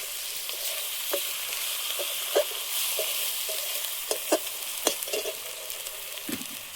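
Katla fish head frying in a pan with chili and turmeric powder, a steady hiss of oil with scattered stirring knocks and clinks close by, no voices.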